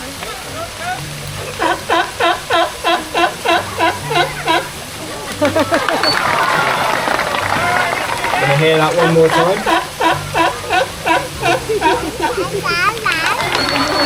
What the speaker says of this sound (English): Now that is the Californian sea lion's bark,